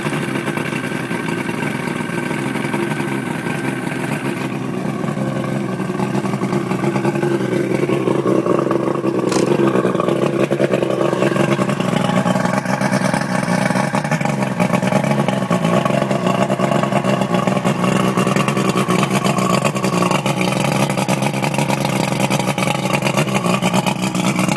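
An outboard boat motor with a possible air bubble in its hydraulic fluid starts up and runs steadily at close range, a continuous loud mechanical drone that holds throughout with a slight rise in intensity partway through.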